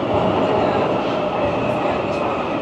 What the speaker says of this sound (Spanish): Que es re ruidoso este subte.